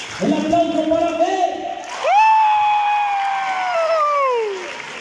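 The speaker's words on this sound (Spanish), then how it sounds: "El aplauso para Fe." Crowd at a judged competition event applauds and cheers for a contestant, with a voice at the start, then a long, loud whoop that rises and slowly falls over continuous clapping.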